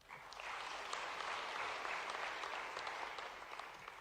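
An audience applauds after a speech, the clapping swelling quickly and holding steady, heard faintly and at some distance.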